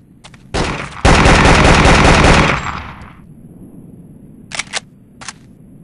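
Automatic rifle fire in the Vietnam War shooter Vietnam 2: Special Assignment: a short burst, then a loud sustained stream of rapid shots lasting about a second and a half, tailing off into a room echo, followed by a few sharp clicks and clatters.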